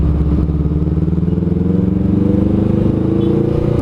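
A Honda CMX500 Rebel motorcycle being ridden gives a loud, close, steady engine drone with a pulsing low throb and no talk over it.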